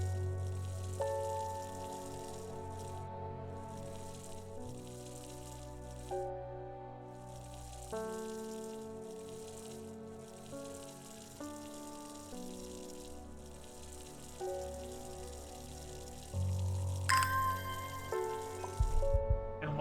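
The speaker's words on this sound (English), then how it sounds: "We water our flowers." Flowers being watered in the Strange Horticulture game, a soft continuous trickle and splash of water lasting around twenty seconds beneath gentle background music, with no talk.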